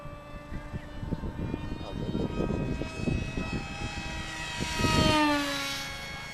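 A propeller-driven RC model airplane, a MESA rcFF on LiPo power, flies overhead with a steady droning buzz that rises in pitch and swells loudest near the end as it passes close.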